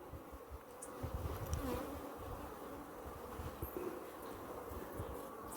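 Africanized honey bees buzzing at their hive, a dense, continuous swarm drone heard at a steady moderate level with no talking.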